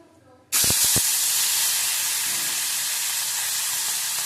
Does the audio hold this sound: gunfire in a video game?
no